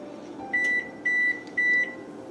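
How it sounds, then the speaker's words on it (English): A kitchen oven signals it has finished preheating with three clear electronic beeps in a steady rhythm, each about a quarter second long, fairly quiet against a soft background hum. "That beeping was just my oven telling me that, hey, it's done and preheated, ready to go."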